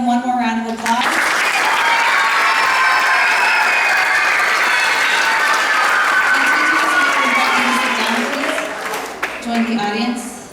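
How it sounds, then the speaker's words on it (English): A summer camp audience claps for their teachers in a long, loud, sustained round of applause with light cheering, and voices speak at the start and end. "Let's give them one more round of applause"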